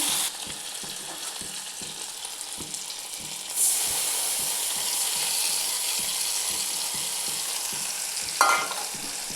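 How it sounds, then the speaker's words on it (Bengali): Spice paste fries in a pan with a steady, bright sizzle and hiss, while a utensil stirs and scrapes in regular rhythmic strokes; no talking is heard. "মশলাটা আগে সুন্দর করে ভেজে নিচ্ছি।"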